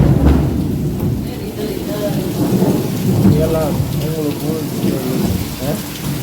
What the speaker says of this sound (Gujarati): જો વરસાદ વાગે કા